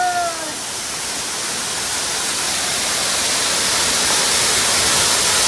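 Junani waterfall in Bargarh pours in a steady, dense roar of rushing water, loud and close, holding evenly from start to finish with no voices.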